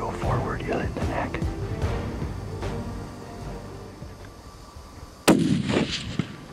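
A single loud, sharp rifle shot during a hunt, preceded by quiet speech and followed by a brief echoing tail.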